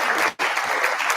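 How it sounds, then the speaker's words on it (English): Dense audience applause for a panel at a research colloquium fills the room, close and loud, with a brief dip before it resumes steadily. "Let's please give the panel a round of applause."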